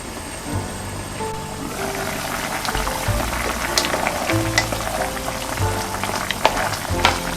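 Squid stew with radish, onion, zucchini, green onion and chili peppers bubbles steadily in a pot, a continuous close simmering and sizzling texture with occasional louder pops.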